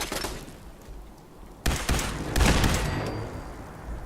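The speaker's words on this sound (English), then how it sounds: "I think we're going to have to whack out the laser rifle" Laser rifle fire in Fallout 4 cracks out in a rapid burst of shots after a quieter stretch, loud and close, with some rumbling impacts.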